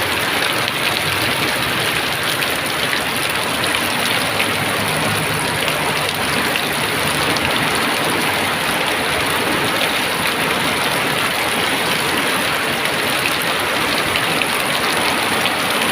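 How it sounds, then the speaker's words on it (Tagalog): Heavy rain pours down steadily, a dense, loud hiss of drops striking surfaces that continues without letup, with no voices. "Kasi malakas yung ulan."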